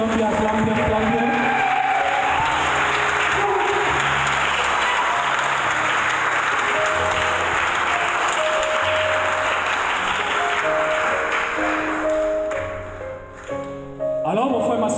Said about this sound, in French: Acclame bien, acclame bien, acclame bien, acclame bien, acclame bien